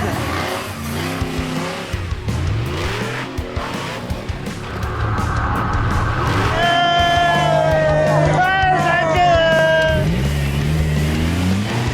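An off-road vehicle is driven hard up Japan's toughest trail at the Trail Breaker Challenge, its engine roaring loud and close with rising, strained revs and a steady rumbling drone that builds toward the end.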